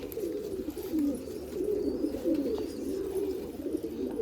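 Pigeons coo in a soft, continuous rolling murmur on a rooftop pigeon loft in Amritsar, several birds overlapping at close range with no pauses.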